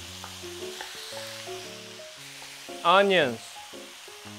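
Potato, carrot, mushrooms and onions fry together for a spicy Japanese curry, a steady sizzle sitting beneath tonal background music, with a brief spoken word midway.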